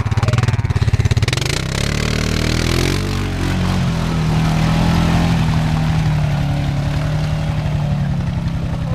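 Off-road Honda motorcycle engine revs hard while stuck in a backyard bog, a loud, close, roaring drone that rises and falls in pitch with sputtering at the start and sustained throttle afterward.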